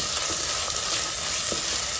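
Onion, ginger, green chilies and curry leaves frying in oil for a Mangalorean fish pulimunchi, a loud dense crackling sizzle held steady for a couple of seconds with faint stirring taps, up close and without speech.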